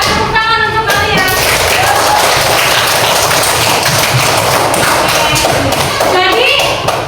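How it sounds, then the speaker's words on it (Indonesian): Schoolchildren clapping in a classroom, a loud dense patter of many hands that runs throughout, with voices talking over it. "Tepuk tangan untuk kalian."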